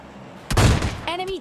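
A single AWM sniper rifle shot lands a headshot in PUBG Mobile Lite, a sharp loud crack with a short ringing decay, followed by a rising electronic tone from the game.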